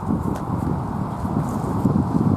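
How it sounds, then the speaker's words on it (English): A horse at the Irish National Stud moves nearby, with steady clip-clop hoof sounds and shuffling over a continuous low rumble of wind and outdoor noise. "So I'm very good at recognising horses, Lynn."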